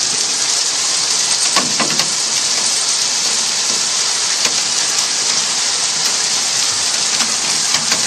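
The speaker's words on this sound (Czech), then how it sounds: "Normálně padají kroupy, to je přehnaný." Hail and heavy rain pelt down in a dense, loud, continuous roar, with occasional sharper individual impacts standing out through the steady wash of falling water.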